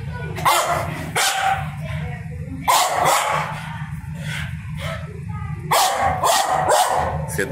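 A pet dog barks in short loud bursts, three clusters of sharp barks separated by pauses, close by, with a steady low hum underneath.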